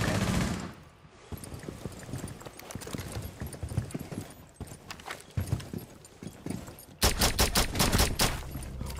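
Rapid automatic gunfire from Rainbow Six Siege rattles in repeated bursts, dense and close, with a sharp loud volley near the end and no voices over it.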